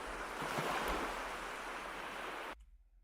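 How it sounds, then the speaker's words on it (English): Steady wash of surf and rolling waves with some wind in a cozy video game scene, continuous and fairly loud before cutting off abruptly near the end. "adding the water sound effects was a good idea"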